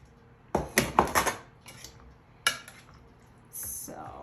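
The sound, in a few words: mixing cooked rice stuffing in a bowl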